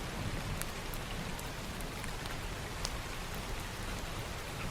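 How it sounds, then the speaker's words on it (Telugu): Steady rain pattering down on surfaces, a continuous even hiss with scattered drop ticks, fairly close and unbroken throughout, with no voices. "అయ్యో వర్షం వస్తున్నట్టుంది"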